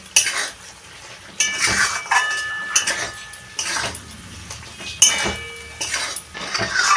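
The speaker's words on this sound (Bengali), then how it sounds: "আমি পেঁয়াজটা একটুখানি কষিয়ে নেব।" A utensil scrapes and clinks against a pan while chopped onion fries with spiced chicken for jhal chicken pulao; the stirring strokes are close and irregular, with a faint sizzle underneath.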